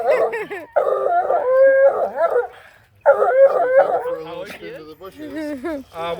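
A Bluetick Coonhound baying excitedly up close, with long, wavering, drawn-out howls that break for a moment, then resume and trail into shorter yips and whines.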